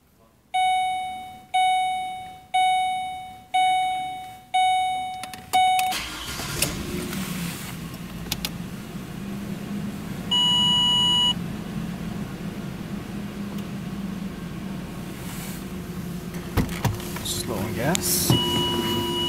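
A 2010 Ford Explorer XLT 4WD V6 sounds a run of five or six evenly spaced dashboard chimes, then cranks and starts, settling into a steady close idle with faint clicks and a short tone partway through.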